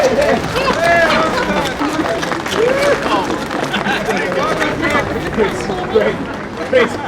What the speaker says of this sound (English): How about a round of applause for Chris from Highgate?